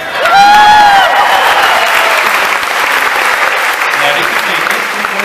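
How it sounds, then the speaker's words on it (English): A theatre audience at a concert at the Pantages Theatre bursts into loud, sustained applause, a dense wash of clapping with a cheer or whistle rising at the start before it settles. "how about a big round of applause for these ladies who just got here?"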